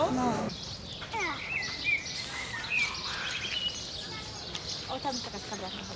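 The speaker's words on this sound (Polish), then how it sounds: "Ale ładnie ptaszki śpiewają." Small birds chirp and twitter in bursts in an outdoor spot in Madrid, mostly early and midway, while people talk nearby over steady background noise.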